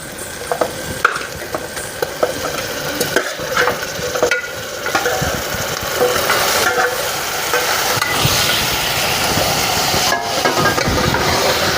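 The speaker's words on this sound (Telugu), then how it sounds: "ఇంక ఇప్పుడైతే మనం మటన్ అయితే వేసేసుకుందాం ఇందులో." Mutton pieces go into a curry pan of cooked-down tomato and are stirred, giving loud, continuous sizzling and frying hiss with scraping stirs and clinks throughout.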